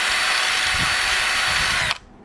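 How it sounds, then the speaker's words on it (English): An electric drill with a 5/32 inch bit bores valve holes in a 3D printed Lego vacuum engine cylinder head, whining steadily and close for about two seconds before it stops abruptly. "I use a drill. This is a 5/32 inch drill bit."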